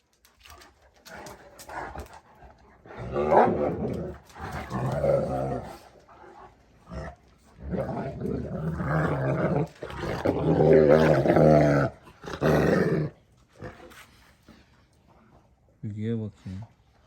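Kangal dogs growling and grumbling during a height-measuring session, low rumbling snarls and an occasional sharp bark mixed in with people talking close by.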